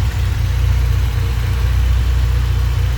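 Toyota 22RE four-cylinder engine running steadily, close and loud, with a dense low rumble and constant drone and no clear rise in pitch across the short stretch.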